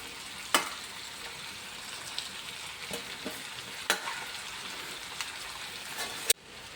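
Onions frying under a closed lid on a medium flame for chicken roast, a soft, even sizzle that runs throughout, broken by a few sharp ticks and pops and ending with a sudden click.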